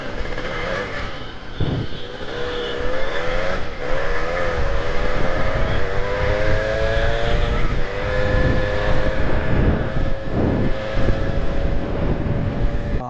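A Suzuki Shogun two-stroke motorcycle engine runs steadily and fairly loud throughout, its rising whine sweeping upward in pitch as the bike accelerates, with no talking.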